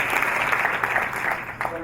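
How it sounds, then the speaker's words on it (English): Pastors, clergy and guests clap at a My Brother's Keeper program event at Lincoln High School, brief scattered applause with a voice speaking over it. "give a round of applause"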